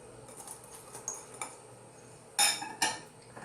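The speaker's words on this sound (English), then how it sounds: "Let me give this a mix." A metal spoon stirs black-eyed pea and vegetable curry with fresh mint and cilantro in a pot, giving soft scraping and a few sharp clinks against the rim, two louder knocks near the end.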